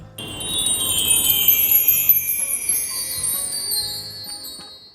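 Tubular bells ring out with bright, sustained metallic tones that overlap and slowly fade, played alone.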